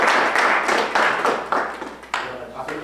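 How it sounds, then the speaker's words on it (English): Meetup audience applauding in a room, a steady wash of many hands clapping for about three seconds, fairly loud and close, with voices talking over it. "give a round of applause"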